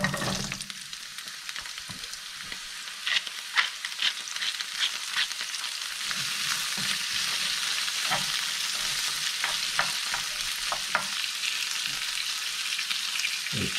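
Fish frying in olive oil and butter beside a pan of vegetables in olive oil, a bright continuous sizzle with crackles and occasional stirring scrapes, close and steady, no voices.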